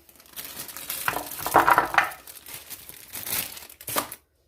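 Baby carrots tipped from a plastic bag into a pan with celery for homemade chicken soup bring close crinkling and rustling of the bag plus scattered clatters as the carrots land, all without talk.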